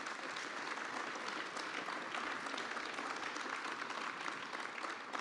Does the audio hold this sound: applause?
yes